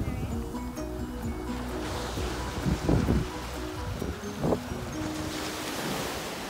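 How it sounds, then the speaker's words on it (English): Waves wash onto a beach on a very windy day, a broad roaring surge with wind buffeting the microphone, while voices murmur faintly in the background. "beach. On a very windy day."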